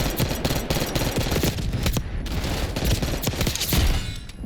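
Rapid gunfire from a weapon in the video game Black Ops, fast continuous bursts of shots packed densely together, loud and unbroken for several seconds.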